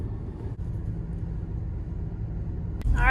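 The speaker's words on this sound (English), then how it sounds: "Jeep is warmed up enough, so I'm going to go take it out for a ride and see how it does" Steady low engine rumble and drivetrain drone from a Jeep rolling on cold Maxxis Razor tires in chilly weather, continuous and close, with a brief voice at the start and a louder surge near the end.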